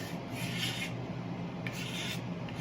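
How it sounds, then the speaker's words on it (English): A blade scrapes carefully along a wooden tool handle, a close, soft rasping stroke repeated in a few passes, quiet and steady with no talk. "just very carefully scraping this"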